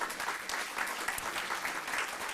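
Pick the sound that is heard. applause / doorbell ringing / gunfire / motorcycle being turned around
applause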